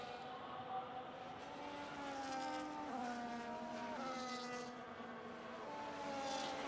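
F1 race cars lapping the Qatar circuit in the video game F1 25, high engine whine rising and shifting through gears, distant and fairly quiet, with no voices heard.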